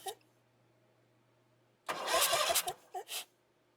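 A car starter engaged by feeding 12 volts to the solenoid's switching wire through a VDiagTool V200 Pro circuit probe tester cranks the engine in a short, loud burst of about a second, then two brief bumps after a quiet start.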